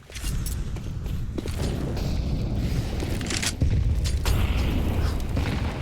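Grenades and frag explosions in a Counter-Strike match on the Ancient map, a steady barrage of booms and thuds layered over a constant loud rumble, with sharper hits landing in quick succession.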